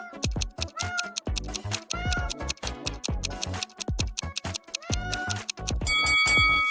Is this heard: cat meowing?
yes